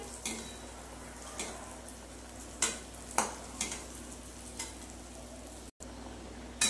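Kachori deep frying in oil over low-medium heat, a soft steady sizzle with scattered faint clicks and taps of a utensil, no voices.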